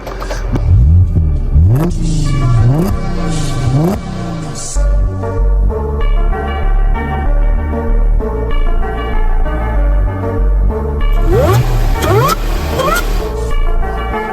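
Audi S4 V8 engine revving hard with the exhaust valves open, loud close-up rising and falling revs in repeated bursts over a steady idle rumble, with a roaring rev series near the end.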